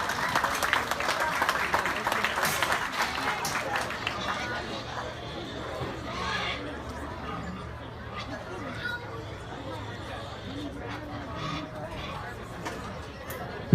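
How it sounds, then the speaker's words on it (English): Crowd clapping fills an arena at a youth swine market show as lightweight barrow exhibitors exit the ring, loud at first then thinning to steady scattered applause with a murmur of voices underneath. "let's give everybody a round of applause when they exit"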